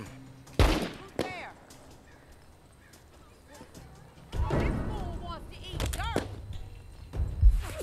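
Hostile gunfire in The Walking Dead: Saints & Sinners video game, a few sharp scattered shots and bursts with impacts at uneven intervals, close by, mixed with a voice and other game sounds.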